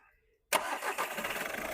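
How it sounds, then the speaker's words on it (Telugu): An excellent-condition used car fires up on a single self-start, a sharp crank out of silence that settles at once into a smooth, steady idle close by. "సింగిల్ సెల్ఫ్లో బండి స్టార్ట్ అవుతుంది."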